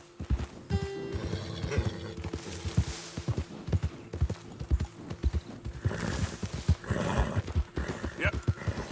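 Horse hooves clip-clopping in the video game Red Dead Redemption 2, a quick rhythmic gallop with a neigh, loud and close, while someone talks at times over the hoofbeats.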